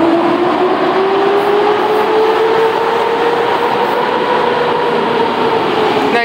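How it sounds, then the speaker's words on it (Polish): The Gwarek passenger train, Słupsk–Katowice, pulls away from Rawicz station, a loud close electric motor whine rising steadily in pitch over a continuous rumble of wheels and rail noise. "Gwarek, relacji Ustka Katowice, znaczy Słupsk Katowice. Rozruch rozpoczęty, więc odjazd."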